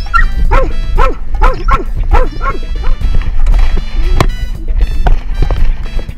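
Search and rescue dogs trained to detect people bark loudly and repeatedly in a steady run of close, overlapping barks and yips, with a brief pause partway before the barking resumes.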